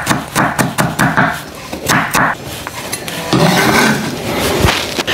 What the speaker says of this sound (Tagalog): Gayatin lang natin siya ng panggisa.